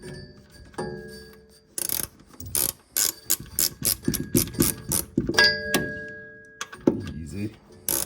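A ratchet tightening a bolt on a TH350 transmission in a home garage, bursts of rapid clicking strokes in quick rhythmic runs with pauses and brief knocks, close and fairly loud, a voice speaking briefly between.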